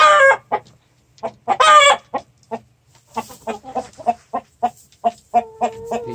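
A rooster in a backyard henhouse crows twice, followed by a run of rhythmic clucks, all close and clear with no talking.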